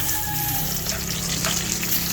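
Bisugo fish sizzles and crackles steadily in hot oil, a close, continuous frying hiss with no one talking.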